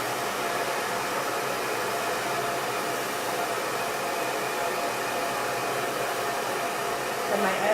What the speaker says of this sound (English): right in at the root, and blow drying downward